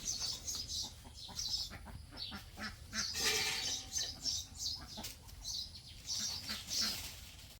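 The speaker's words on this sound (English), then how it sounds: "Ducks are hungry and coming mithering." Hungry farm ducks at a farm in Thailand quack and chatter busily with bursts of wing flapping, a steady near flock noise throughout with no talking.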